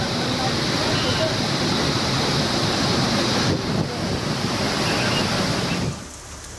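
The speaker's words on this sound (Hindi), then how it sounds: "पानी के शोर को सुनिए जो डराने वाला है।" A swollen river in flood during heavy monsoon rains, with floodwater roaring in a loud, continuous, broadband rush, close and unbroken, dipping briefly near the end.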